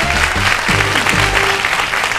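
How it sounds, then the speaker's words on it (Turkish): Studio audience applause on a Turkish television quiz show, steady and fairly loud clapping throughout a short stretch, with faint background tones and low murmuring beneath. "Alkış Cem'e bu sefer."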